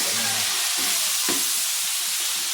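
Shrimp fry in a hot pan with a steady, loud bright sizzle, broken by occasional stirring scrapes and pops.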